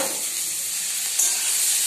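Long beans and potatoes with turmeric frying in oil in a wok, a continuous close sizzle and hiss at steady loudness with a slight crackle partway through.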